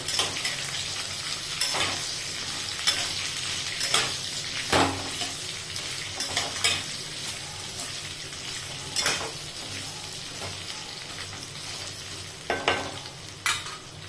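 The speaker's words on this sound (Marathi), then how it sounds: "आता हे छान धुतलेले फ्लावर आणि बटाटे टाकते मी पहिले छान परतवून घ्यायचे" Washed cauliflower and potatoes sauté in a pan with a steady close sizzle, punctuated by repeated sharp scrapes and clinks of a spoon stirring against the metal.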